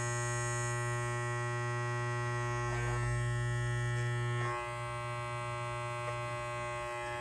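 A steady electric buzz from hair clippers lacking proper lubrication runs continuously, a strong mains-like hum with bright overtones, close and unchanging, with a few faint clicks.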